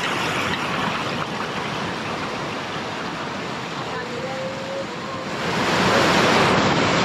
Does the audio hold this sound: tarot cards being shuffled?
no